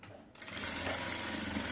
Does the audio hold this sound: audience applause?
no